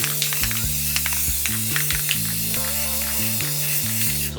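Semi-gloss aerosol spray paint hisses onto a Chevy Silverado truck in short repeated bursts, heard up close beneath steady background music.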